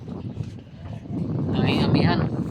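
Wind gusts outdoors beside a river, a steady low rushing that swells louder toward the end, heard under someone talking.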